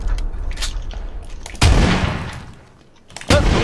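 Loud booming shotgun blasts in PUBG, two heavy shots about a second and a half apart, each with a rumbling tail, following a sharper report near the start.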